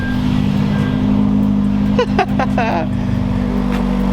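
A wrecked Hyundai Genesis Coupe bought from a salvage auction idles in a low, steady hum just after being jump-started, with a few brief voices cutting in midway.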